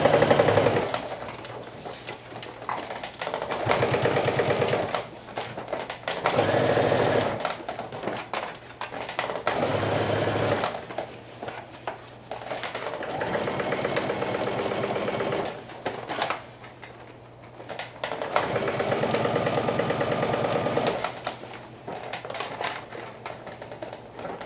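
A home sewing machine stitches a bucket hat seam in repeated runs of rapid, close stitching separated by short pauses, starting and stopping several times.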